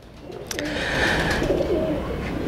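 Soft, low cooing from pigeons repeats a few times, close by, over a faint background hum with a brief high chirp.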